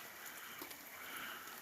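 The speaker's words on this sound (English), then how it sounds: "The rain is very light." Light rain falling at the tail end of an evening storm, with no wind, heard as a soft, even patter and hiss with a few faint drop taps.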